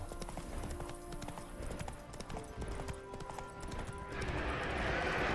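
Hoofbeats of Roach, a horse in The Witcher 3, galloping in a steady clip-clop rhythm, with a rising rush of wind or ambient noise near the end and no speech.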